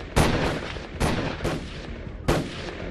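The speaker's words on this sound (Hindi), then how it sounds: "इनोवा कार की अगली सीट को टारगेट कर फिर से फायरिंग करने लगते हैं।" Three sharp gunshots fired from an Innova at a car on a street in Subhash Nagar, Delhi, spaced irregularly about a second apart, each loud crack trailing off into echoing reverberation, with no talk.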